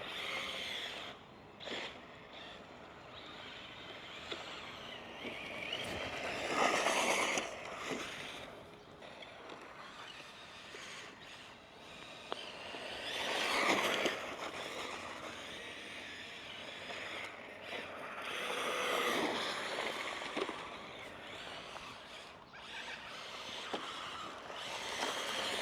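Rlaarlo XTS-S10 RC car on an outdoor run, its motor whining and rising and falling in several bursts with outdoor wind noise, ending in braking after a burst near the middle.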